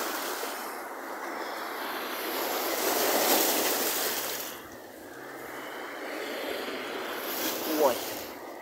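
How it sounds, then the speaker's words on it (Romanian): Big waves from a rough sea roll in and crash as a broad, swelling surge that builds and recedes, with wind and a voice talking over it. "Cu niște valuri extraordinar de mare."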